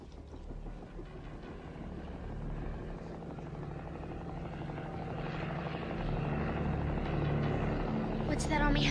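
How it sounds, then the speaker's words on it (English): An army helicopter flies nearby, its rotor beating in a loud, steady throb that slowly grows louder, with people talking over it. "What's that army helicopter doing here?"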